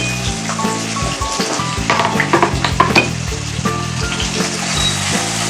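Chopped onion and minced garlic frying over high heat in a hot pan, a loud, close, continuous sizzle with crackling pops and stirring, no talk.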